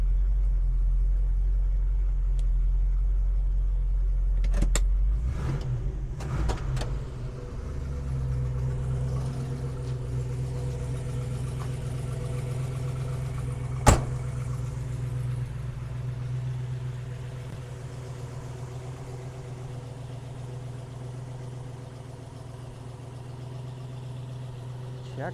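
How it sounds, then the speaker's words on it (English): A 1967 Chevrolet Chevelle convertible engine idles steadily with a deep, low rumble for the whole stretch; a few brief knocks and a sharp click break in partway through. "let's hear the engine before we shut it off"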